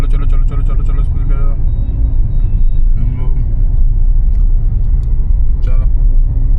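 Steady low engine rumble and road noise inside a car during a driving practice lesson, continuous and close, with people talking over it.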